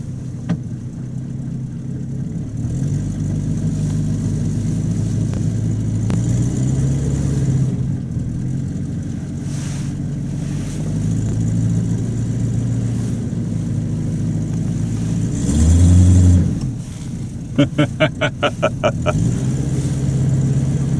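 A cold Buick Roadmaster with a slipping transmission idles low and steady, then revs in a loud surge near the end, followed by a quick run of sharp rhythmic clicks and a return to idle.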